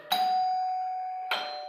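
An electric call bell in a hotel wiring demonstration gives a steady ringing tone, struck twice: one long sustained ring, then a second ring starting after a short gap, clear and close with no talk.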